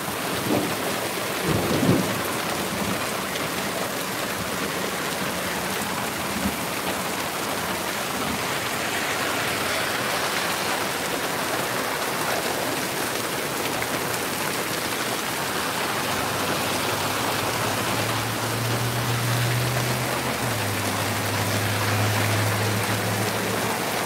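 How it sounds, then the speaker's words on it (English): Steady heavy rain pours throughout a thunderstorm, with a loud rumble of thunder early on and low distant rolling thunder near the end. "Some nice thunder."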